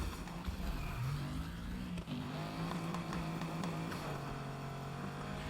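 A car engine in the Need for Speed video game runs hard and steady, a continuous droning hum with a slight rise in pitch early on, alone with no talk over it.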